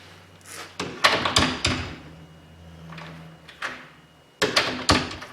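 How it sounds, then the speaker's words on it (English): A door in a garage workshop, fitted with a newly installed lock and strike, swings shut and latches in a few close, sharp thunks and clicks, then is closed and latched again a few seconds later. "I can check to see that the door closes and latches properly."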